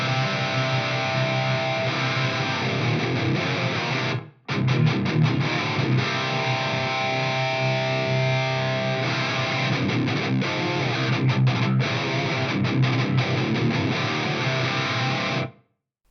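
An electric guitar is played through a Fractal FM3 with an extreme room-simulation reverb, sustained chords ringing and washing out into a dense tail, with a brief cut to silence partway through and no talking.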